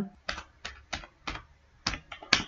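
Keys clatter on a computer keyboard as text goes into a PowerPoint text box: six or so separate bursts of close, crisp clicking, spaced by short pauses, with no voice.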